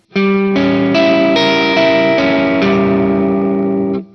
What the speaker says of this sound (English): I find this is the easiest way to play the diminished.